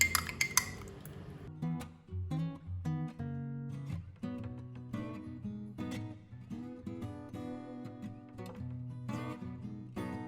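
A spoon stirs tomato paste into hot water in a glass, ringing with repeated close clinks against the sides, over background music.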